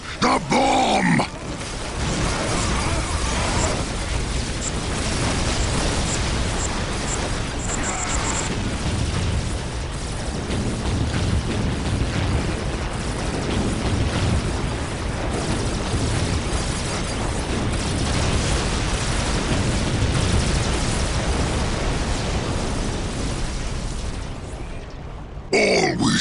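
Bomb explosions in the Warhammer 40K video game Dawn of War Dark Crusade, a long sustained roar of dense, loud blasts and rumbling battle noise with gruff voices grunting and talking through it.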